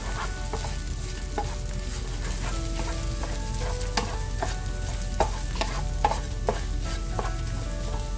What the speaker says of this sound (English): As the egg starts scrambling, you're gonna keep adding a little okra at a time